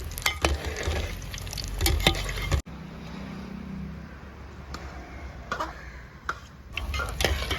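Battered egg bajji sizzles in hot oil as it is stirred and turned, giving a steady frying hiss with intermittent scraping clicks, loud at first, then a sudden break and a softer, quieter sizzle.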